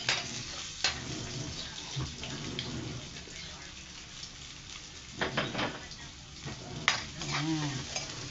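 Garlic sautéing in a home pan, with a soft steady sizzle and intermittent scraping stir strokes close by, and a few brief louder clatters; a voice speaks quietly in places.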